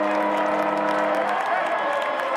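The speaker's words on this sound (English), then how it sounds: "Listen to the crowd." A rugby stadium crowd at a Major League Rugby match between the Seattle Seawolves and Old Glory DC roars with sustained cheering and applause after a winning play, dense and continuous, with a commentator talking over it.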